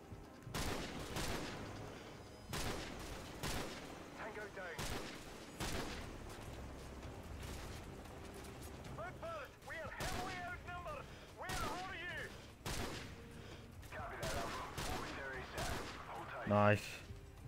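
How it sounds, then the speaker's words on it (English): Gunfire from the video game Call of Duty 4, bursts of shots and explosions repeating loudly throughout, mixed with game sound effects and a voice talking over the action. "Keep on shooting."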